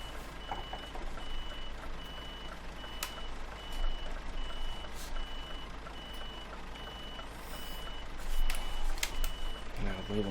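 In the Euro Truck Simulator 2 video game, a truck with a trailer reverses through Spain, repeated evenly spaced reversing beeps sounding over a low engine drone, with faint talk in the background.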